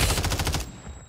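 Rapid automatic gunfire from a video game shooter, a tight burst of evenly spaced shots lasting about half a second before cutting off into a short fading tail.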